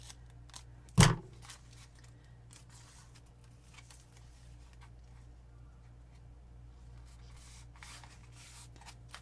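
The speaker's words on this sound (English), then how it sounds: "Take it, give it a little snip." A single crisp scissor snip cutting covering material on a dresser trunk, sharp and close near the start, followed by quiet faint rustling and handling.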